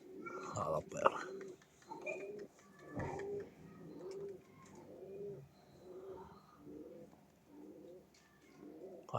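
Pigeons cooing close by in a loft, soft repeated throaty coos in a steady rhythmic pattern, with someone speaking over them at moments.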